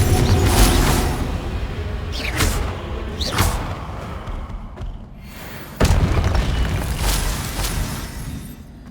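Confringo blasting spell explosions in the Hogwarts Legacy video game: deep booming blasts with rumbling debris, heavy and continuous, with a fresh loud impact partway through and whooshing spell sweeps earlier.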